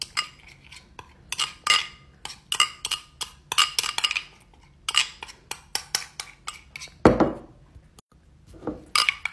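Homemade concoction stirred in a glass with a spoon, a long run of rapid, close clinks and scrapes in irregular bursts with short pauses, bright and metallic against the glass.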